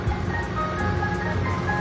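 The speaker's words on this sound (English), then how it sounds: "Oh yes, our ice cream truck." An ice cream truck parked at a beach in Mauritius plays its tinkling jingle, a steady chime tune heard over the idling engine and the low wash of the surroundings.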